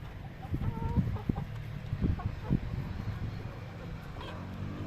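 Young 20-week-old hens cluck softly in short, scattered bursts close by, with low background noise and no talking.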